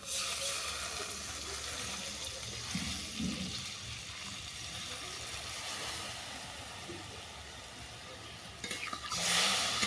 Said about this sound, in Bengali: এরপর দিয়ে দিচ্ছি পরিমাণ মতো জল